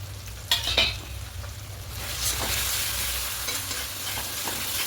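Ground coriander, cumin and chili powder sautéing in oil for a rohu fish curry, a steady close sizzle with a few sharp utensil scrapes near the start and a low hum beneath.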